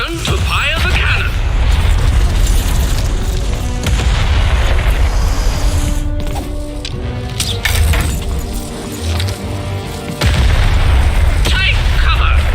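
Heavy cannon blasts boom in the video game Lost in Random, deep and loud within a dense, continuous wash of game music and effects, with a sharp break near the end before the roar resumes.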